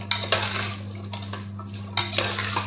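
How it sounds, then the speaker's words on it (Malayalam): A metal spoon clinks and scrapes against a pot of pumpkin curry in a few irregular bursts, close by, over a steady low hum. "ഇതെല്ലാം കൂടി ഇനി നല്ലപോലെ മിക്സ് ചെയ്ത് കൊടുക്കണം"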